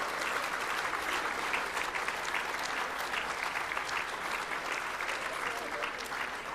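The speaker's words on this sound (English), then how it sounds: "Please give them a very, very big round of applause." At a football league awards night, the audience gives a big round of applause for the women's team of the year, a steady, even crowd clapping that continues throughout at moderate level.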